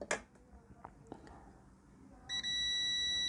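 A multimeter buzzer in continuity mode, probing an iPhone board, sounds a steady, loud electronic tone that starts partway through and holds to the end, following a few quiet clicks of the probes.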